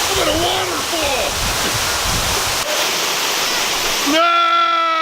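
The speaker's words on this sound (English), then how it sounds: "Look at a waterfall!" A hidden waterfall in the mountains of Fukuoka, Japan, a constant loud rushing of water, with voices talking and exclaiming over it and a sudden tonal sound near the end.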